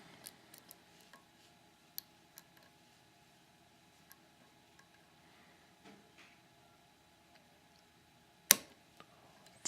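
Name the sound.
lock picking clicks on a Master Lock No.570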